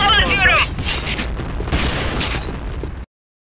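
A thrown bomb detonates in the shooter game Point Blank: a voice calls out briefly, then heavy booming blasts and crackling debris fill the rest before the sound cuts off abruptly.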